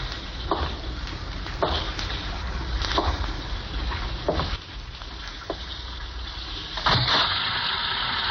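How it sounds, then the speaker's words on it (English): Water sloshes and splashes continuously in a bathtub as a radio drama sound effect, with occasional sharper knocks and swishes of movement, fairly close and steady, with no speech. "I'm just getting into the tub"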